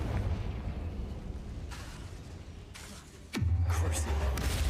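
Confringo fire-blast spell going off in the Hogwarts Legacy video game: a rumbling crackle builds, a sharp whoosh sweeps down, and a deep, sustained explosive boom follows. No one speaks.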